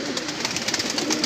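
Rampuri and Shahranpuri pigeons coo in a coop, a soft, steady, close murmur of throaty calls with no voices over it.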